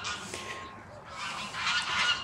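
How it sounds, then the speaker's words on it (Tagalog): A flock of geese honks loudly and repeatedly, the harsh calls overlapping in a noisy, continuous chorus nearby. "Ayun na yung mga gansa."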